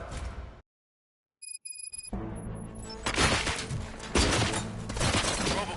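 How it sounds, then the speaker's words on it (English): Gunfire in the Robocop Rogue City video game, a burst of rapid shots and mechanical clatter erupting after a brief silence and some electronic beeps, loud and dense, continuing to the end. "Gunshots? What's going on?"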